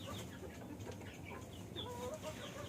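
A hen clucks while laying an egg in a domestic poultry setup, a few faint, quick clucks over low background noise.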